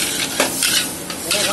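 Mixed vegetables including capsicum, onion and carrot stir-frying for chowmein at a Chandigarh noodle stall, a close, steady sizzle with rhythmic scraping stirs about every half second, alone without talk.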